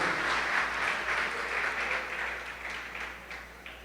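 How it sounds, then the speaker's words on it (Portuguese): Church congregation applauds during a sermon, sustained hand clapping filling the hall at moderate loudness, with a low steady hum underneath and the applause gradually thinning toward the end. "Vamos aplaudir o Deus Todo-Poderoso."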